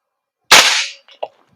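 A G&G MGCR556 airsoft gas blowback rifle with a 10-inch barrel fires one sharp, loud shot that cracks and decays quickly, followed by a short mechanical clack of the cycling action, with no talk over it.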